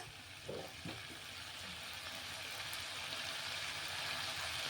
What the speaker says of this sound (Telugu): దీంట్లో ఇప్పుడు వాటర్ వేసుకుందాం తగినంత.